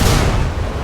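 Explosions in the GTA LSPDFR video game during a fire shift, a loud dense burst of booming, crackling blasts that fades slightly across under a second.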